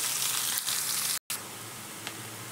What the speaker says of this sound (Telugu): ఒక పెద్ద సైజు ఉల్లిపాయను కూడా వేసుకొని చక్కగా బాగా వేగేదాకా వేయించుకోవాలి